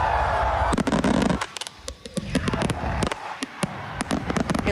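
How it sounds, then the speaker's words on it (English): Canada Day fireworks display at Ashbridges Bay in Toronto, heard as a loud run of sharp cracks and booms, some close together and some spaced apart, with crackling bursts and a low rumble between them. "You're looking at images from the fireworks display at Ashbridges Bay last night."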